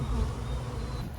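Honey bees hum as packages are installed into hives outdoors on a warm day, a close, steady low buzzing drone that fills the moment without pause.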